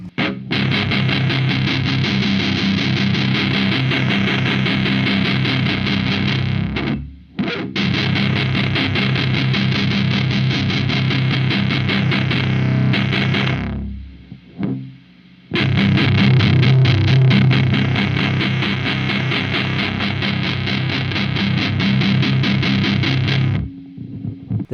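Heavily distorted electric guitar played through a Revv distortion pedal plays loud, thick sustained riffs in three long bursts separated by brief silences.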